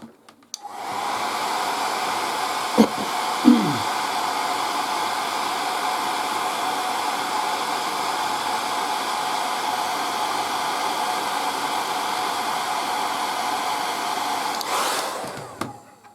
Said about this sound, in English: Let's use the air dry again.